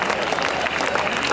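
Applause from the audience at an Urdu mushaira poetry recital, a dense, steady patter of many hands clapping that fills the whole moment, with some murmuring mixed in.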